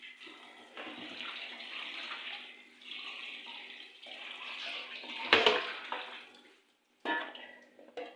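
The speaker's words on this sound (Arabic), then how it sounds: "بعد كده هشوفه تاني هو سخن تحت الحنفيه" Tap water runs steadily over boiled cauliflower in a kitchen sink, a continuous splashing rush that swells briefly with a sharper clatter, cuts out for a moment, then resumes.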